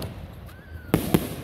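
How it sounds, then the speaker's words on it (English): Fourth of July fireworks going off nearby, two sharp loud bangs in quick succession over quiet background, with a faint whistle just before. "Panda, you can see the fireworks over there"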